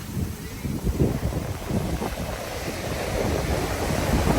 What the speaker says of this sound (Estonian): Ja ma tean, kuidas Ekule meeldiksid need lained